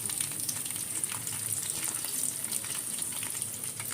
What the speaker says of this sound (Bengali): ঢাকনা দিয়ে পেঁয়াজ ভাজতেছি যেন তাড়াতাড়ি